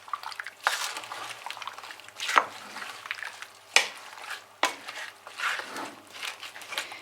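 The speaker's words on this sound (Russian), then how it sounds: "Можно теперь все это перемешать." A spoon scrapes and stirs through thick, wet pumpkin and lemon jam in a pot, with sharp clinks against the side at intervals and soft squelching between.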